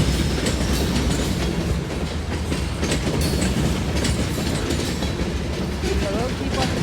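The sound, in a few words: CSX freight train passing, westbound to Selkirk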